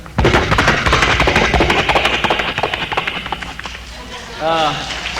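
A man imitates galloping horses with his voice, making a loud, rapid drumming of hoof-like clops in steady rhythm that thins out toward the end.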